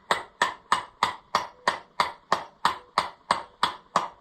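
An H-bar lug wrench used as a hammer, striking metal in about a dozen evenly spaced, ringing blows roughly three per second, loud and close, with no talking.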